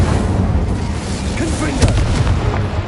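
The Incendio fire spell is cast in the Hogwarts Legacy video game during a dueling tournament, making loud, dense blasting bursts over a constant rumbling bed of game sound. A voice is heard alongside.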